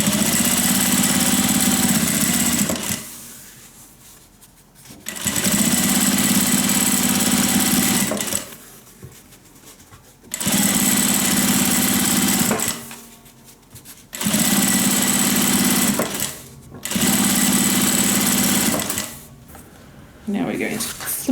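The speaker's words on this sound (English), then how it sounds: "now I'm just going to stitch both sides all the way down" A sewing machine runs in several long, steady bursts separated by short pauses as it stitches down both sides of a folded fabric strap for a sling bag. The motor whirs loudly and evenly close by.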